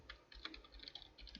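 Quick, light keystrokes on a computer keyboard as a Linux terminal command is typed, a faint run of irregular clicks with no talking.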